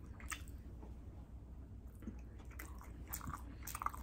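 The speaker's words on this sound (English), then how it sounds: "one bite with ketchup" Someone takes a bite of Mexican migas with ketchup, soft wet chewing and squishing with a few crisp crunches, close and quiet, no talking.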